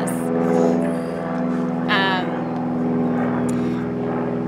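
A light aircraft or glider passing overhead near an airport, a steady droning hum that swells slightly and lingers in the background while people talk.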